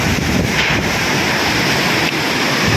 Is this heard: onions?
no